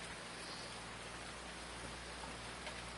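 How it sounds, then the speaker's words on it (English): Rain in the video game Farming Simulator 19 forms a steady, even hiss of falling drops at low level, continuous and unchanging throughout with no voices. "So it's kind of rainy today."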